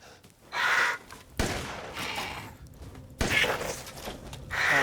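Shotgun blasts in the horror game Resident Evil 8, three sharp booming shots spaced a second or two apart, each with a loud transient and lingering rumble over a busy game soundscape.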